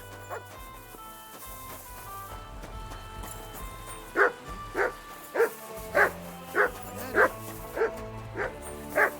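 A dog barks repeatedly in the medieval role-playing game Kingdom Come: Deliverance II, a steady run of sharp, evenly spaced barks over background game music and ambience.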